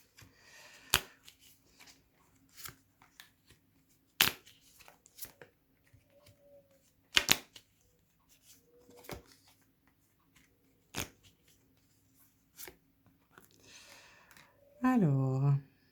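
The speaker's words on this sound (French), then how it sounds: "Je vais retirer quelques cartes pour remettre au-dessus." Tarot cards being handled and set back on top of a deck, heard as sparse, light snaps and taps spread across a quiet stretch, with a short voice near the end.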